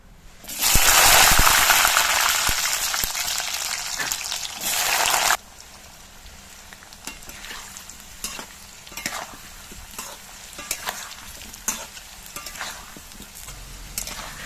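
Whole cumin and then potatoes go into hot oil for a vegetarian ol kochu dish, a loud burst of sizzling that drops sharply after a few seconds into a quieter steady fry with scattered pops and stirring clinks.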